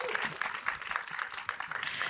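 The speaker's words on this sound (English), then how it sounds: "Applause" Applause for panelists at a women-led horror film panel held at the TIFF Bell Lightbox, heard as a fairly soft, steady patter of many hands clapping in a room, with faint voices mixed in underneath.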